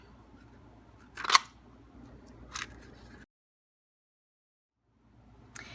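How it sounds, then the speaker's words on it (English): A leaf punch cutting through vellum paper makes two crisp, close snaps a little over a second apart, followed by a short silence and a faint third click. "I'm going to cut with the leaf punch 2 leaves out of my vellum"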